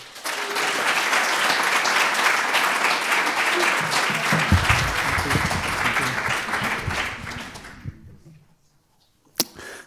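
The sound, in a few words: audience applause welcoming poet Simon Pettet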